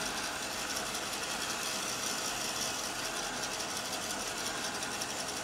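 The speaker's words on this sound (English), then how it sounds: "just dry it with a heat tool" Heat tool drying stamped ink on paper, a continuous, even whirring blower hum held steady throughout at moderate level, with no voices.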